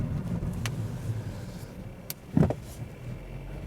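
A Skoda Rapid Spaceback Monte Carlo with a 1.4 TSI engine and 7-speed DSG being driven, a low steady cabin rumble with a few brief clicks and a short louder thump.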